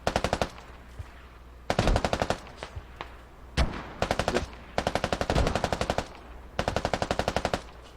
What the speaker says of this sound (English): The Bravo gunner just shooting that doorway, keeping people back